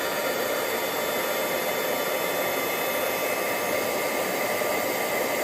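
A heat embossing tool blows hot air steadily to melt multi-metallic embossing powder, a loud, continuous whooshing hiss with no breaks.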